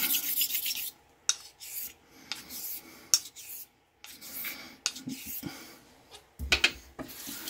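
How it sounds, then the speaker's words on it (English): A blade rough-honed on a hone with an uneven grind: repeated raspy scraping strokes in irregular bursts, each a second or so, separated by short silent gaps, close and fairly loud. "you're doing rough honing like this"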